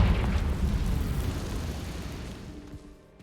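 Confringo spell explosion in Hogwarts Legacy: a single loud, deep blast that booms at once and then rumbles away over about three seconds, with no voices.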